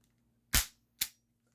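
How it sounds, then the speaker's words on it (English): Two sharp, loud shots from a Mercury Rise TR50 HPA air rifle with a 7-inch rifled barrel, a 40-joule tuned revolver firing slugs, about half a second apart against a quiet background. "I'm gonna fire these two slugs"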